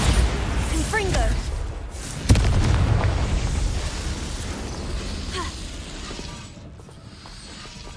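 A Confringo spell in Hogwarts Legacy bursts with a sudden boom followed by a rumbling fiery tail that fades over several seconds, amid game ambience and a voice.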